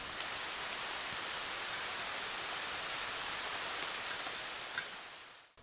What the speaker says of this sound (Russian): дождик пока немного попугал